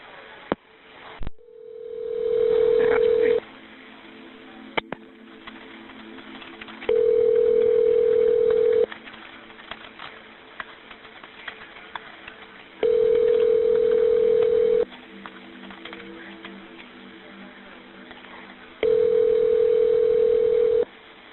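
A phone call rings out with a steady electronic ringback tone, four long bursts evenly spaced about every six seconds, with a quieter hum and faint background noise between rings before it reaches voicemail.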